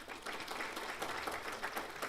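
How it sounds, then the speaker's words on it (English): Steady applause from an audience at a hospital award ceremony and gala dinner, many hands clapping at once in a continuous, fairly loud wash with no voices over it. "Can we clap for ourselves?"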